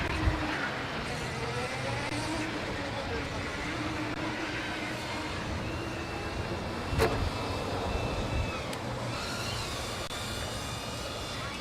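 A Formula Student race car works through a manual autocross run, its engine note rising and falling at a distance under continuous commentary from people talking.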